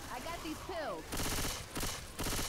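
Video game gunfire comes in loud rattling bursts, two long volleys and a short one, right after a brief voice.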